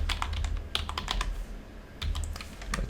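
Keys clack on a computer keyboard in quick irregular bursts, close and crisp, with a short pause midway before typing resumes.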